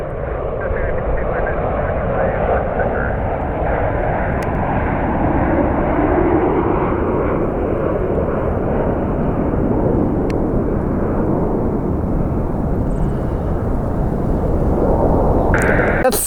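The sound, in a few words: Etihad Boeing 787 Dreamliner jet aircraft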